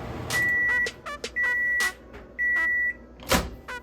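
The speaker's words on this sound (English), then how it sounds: "Just pop it in the microwave for 90 seconds." A microwave hums with broadband noise while three steady, sustained beeps sound in succession, followed by a short thud like a door closing.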